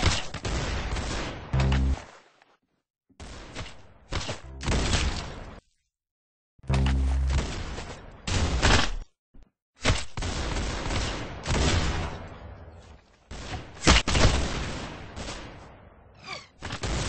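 Bursts of gunfire ring out in a Counter-Strike style Roblox video game, loud rapid volleys broken by short silences, with single sharp shots between them.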